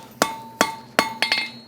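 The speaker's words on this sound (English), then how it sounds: "start hammering it" Hammer blows on hot steel while forge welding a chain link on an anvil: three evenly spaced ringing strikes followed by a quicker flurry of lighter taps, close and loud.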